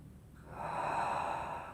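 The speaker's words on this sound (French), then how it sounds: "Quelques soupirs, quelques respirations profondes." One person breathes deeply and sighs during a hatha yoga session, a soft close breath swelling into a long exhale in a quiet room.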